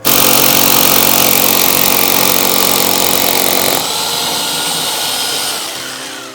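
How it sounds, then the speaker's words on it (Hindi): A power drill bores into a flash tank installation using a 10 mm bit, a loud, close, high-pitched whine that runs steadily, then drops in pitch and tapers off as the trigger eases. "अब मैं ड्रिल कर दूंगा।"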